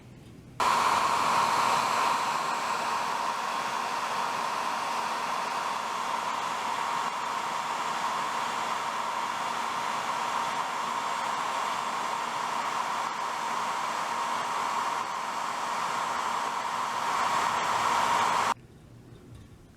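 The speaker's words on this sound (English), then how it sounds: "I think we can hurry that up with a hairdryer." A hair dryer blows steadily for nearly twenty seconds, a loud, even whooshing hum with a high whine, then cuts off abruptly.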